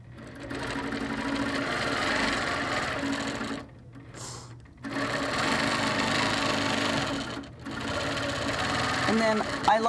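A sewing machine runs in long, steady stitching bursts on a quilt, humming close and loud with two brief pauses between runs.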